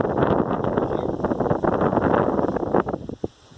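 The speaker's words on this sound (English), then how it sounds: "This wind is terrible" Strong wind at a reservoir buffets the microphone in loud, continuous rumbling gusts with rustling, easing briefly near the end.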